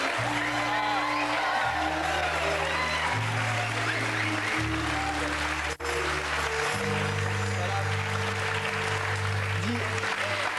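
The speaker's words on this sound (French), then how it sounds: "Mesdames et messieurs, je vous demande d'applaudir la remplaçante de Marina." An audience claps for Marina's replacement at a stage show, steady applause running underneath loud sustained low music tones that largely mask it, with a brief dropout midway.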